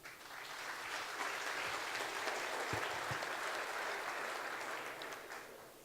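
An audience at a legal seminar in São José do Rio Preto applauds to welcome a speaker, a steady wash of many hands clapping that swells quickly, holds, then thins out toward the end.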